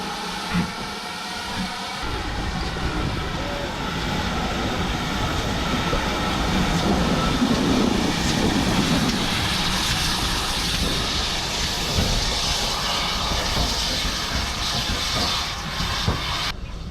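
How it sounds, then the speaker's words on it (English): A steam train departing Bodiam station on the Kent & East Sussex Railway rumbles and hisses steadily, its heavy mechanical noise building and sustained throughout, fairly close, with no talking. "will lead our train out from Bodiam this morning"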